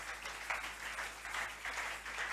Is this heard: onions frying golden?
no